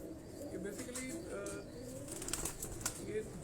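Pigeons on a rooftop in Johar Town, Lahore give soft coos and flutter their wings close by, while someone talks over them.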